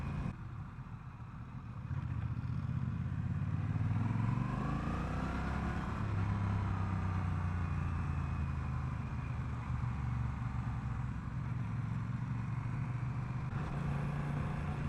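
A Honda Rebel 1100 motorcycle is ridden with its engine braking, a steady muffled engine drone whose pitch sweeps up and then settles lower as the bike slows, heard from the rider's position with wind hiss and no voices.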